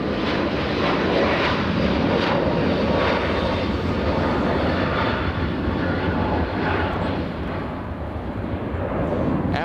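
An airliner bound for Detroit rumbles at LAX, its engines giving a constant heavy roar that fades a little near the end before rising again.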